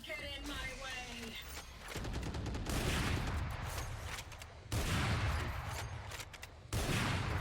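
In Valorant, an Operator sniper rifle fires in heavy booming blasts that land every couple of seconds over a dense, noisy wash of other game effects.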